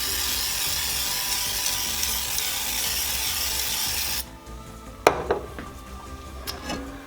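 A steady hissing oil sprayer spray runs for about four seconds over pickles for the air fryer, then stops, followed by a few light clinks and taps of kitchenware.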